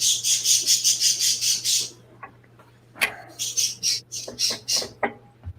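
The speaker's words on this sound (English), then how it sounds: "That's just parakeets." Parakeets chirp in a room where a wedding cake topper is being made, first as a quick, even run of bright, fairly close calls, then as scattered squeaks and tweets after a short pause.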